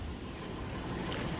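Swift flash-flood water rushing and pouring over, a continuous loud broadband roar with wind buffeting the microphone, no talk.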